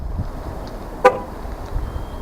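A single short car horn chirp from remote locking sounds once against quiet outdoor background noise, brief and fairly close.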